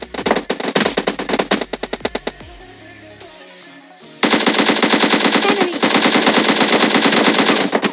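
Rapid bursts of M4 rifle fire in a video game, loud and close, with staccato volleys followed by a sustained dense stretch of continuous automatic shots.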